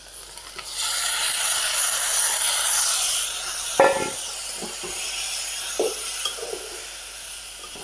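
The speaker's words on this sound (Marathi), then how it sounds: "हे असं चांगलं तेलात तांदूळ फ्राय करायचा." Raw rice being stirred and fried in hot oil in a pan while making Maharashtrian masala bhat, giving a steady, close sizzle with soft scraping from the spoon that fades a little toward the end.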